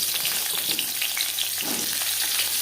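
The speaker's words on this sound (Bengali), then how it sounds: "দু চামচ রিফাইন্ড অয়েল গরম করে নেওয়ার পর দিয়ে দেব পটল" Pointed gourd (potol) sizzles steadily in hot refined oil in a pan, a dense continuous frying hiss with small crackles, close and fairly loud, with no voices.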